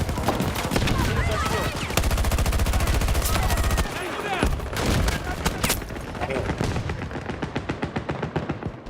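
Rapid automatic gunfire and scattered explosions fill a combat video game in dense, loud bursts that continue throughout, with voices shouting over the shooting.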